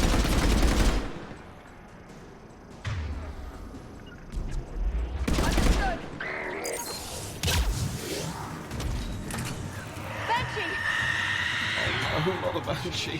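Gunfire in the video game Mass Effect 3, with bursts of shots and weapon bangs mixed among game effects and music, heard alongside talking voices through much of the stretch.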